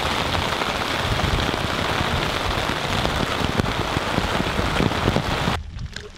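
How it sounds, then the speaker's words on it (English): Steady heavy rain falls on a wilderness campsite in Labrador, a dense constant hiss of drops pattering on surfaces, close and loud throughout before dropping off abruptly at the end. "The rain didn't let up at all"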